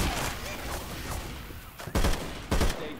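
Gunfire in Left 4 Dead 2, a few sharp, loud shots cracking out over steady noisy game ambience, with a voice shouting during the action.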